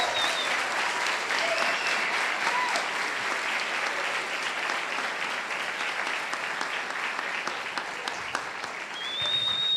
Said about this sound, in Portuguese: Eu sei que essas palmas foi para o sim.